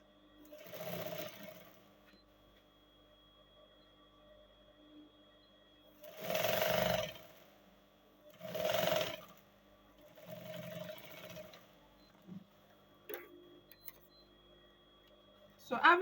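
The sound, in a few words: sewing machine stitching a half-inch seam on fabric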